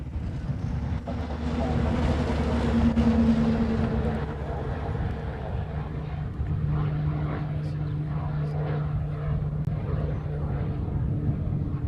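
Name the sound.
C-17 military transport aircraft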